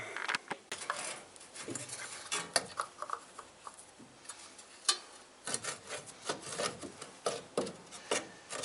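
Electrical terminals of a headlamp connector on a ZAZ 966 car being cleaned, a close, irregular rubbing and scraping with small ticks and taps, no talking.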